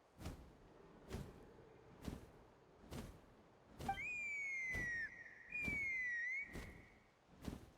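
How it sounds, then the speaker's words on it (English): A shrill, wavering whistle blown in two long blasts over a steady rhythmic thumping background. "That sounded like a whistle."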